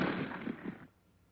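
A single sharp rifle shot aimed at a tank, a loud crack with a short decaying tail, heard alone.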